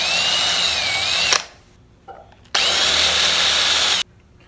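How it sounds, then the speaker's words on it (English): A power drill with a larger bit cleaning burrs from existing holes whines in two loud bursts separated by a short pause with a faint clunk, the motor running steadily each time. "I'm gonna clean up these holes just with a larger drill bit"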